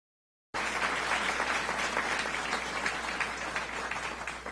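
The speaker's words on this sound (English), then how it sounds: "So let's have another round of applause for" Steady audience applause, dense and sustained from a large crowd, starting abruptly after a short silence and holding for several seconds without fading.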